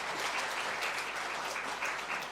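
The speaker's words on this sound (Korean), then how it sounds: "여러분 이 시간 다 같이 한번 더 박수를 한번 더 격려하도록 그렇게 하겠습니다" A church congregation applauding during a Sunday worship service, a steady, dense burst of clapping from many hands that fills the room throughout.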